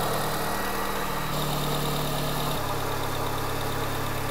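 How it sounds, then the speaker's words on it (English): A car engine idles while warming up, a loud steady drone with low humming tones that step down in pitch twice as the revs settle, no talking over it. "Just to let the engine warm up."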